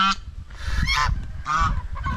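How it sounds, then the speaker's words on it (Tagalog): Farm geese honking loudly and repeatedly in harsh, nasal bursts, close by, with several calls overlapping. "Tapos meron tayo dito oh, ang gansa"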